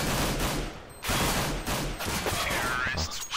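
Gunfire in a Counter-Strike match on de_nuke, with a headshot, comes as a dense run of sharp, loud shots and rapid bursts under a competitive esports broadcast, with a caster talking over it throughout.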